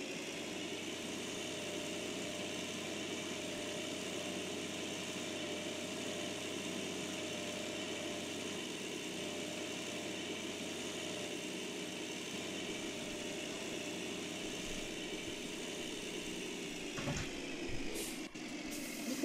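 A video-game tractor engine idles steadily with a low, even rumble and hum, unchanging for a long stretch before a few brief clunks near the end.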